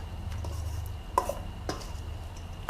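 A fresh Thai banana blossom salad is tossed by hand in a large bowl, with soft rustling and a few sharp clinks of utensils against the bowl, close and fairly quiet.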